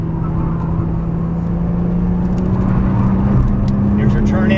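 A Nissan GT-R drives hard on a race track, its engine a loud steady drone heard from inside the cabin, with an instructor's voice talking over it.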